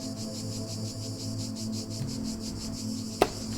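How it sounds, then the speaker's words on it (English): Shimmery, technological cicada-like buzzing from The Talos Principle: Road to Gehenna, a steady pulsing drone with rapid high-pitched shimmer throughout, ending in one sharp click near the close. "This sounds like some kind of shimmery technology thing."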